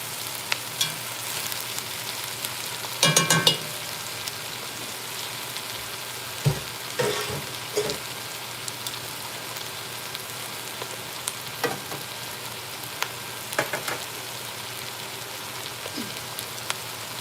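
Vegetables sautéing in a pan for braised beef, giving a steady, close sizzle with occasional clattering stirs. No one speaks.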